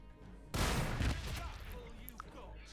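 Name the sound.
gunfire from unit opening fire in Warhammer Battlesector video game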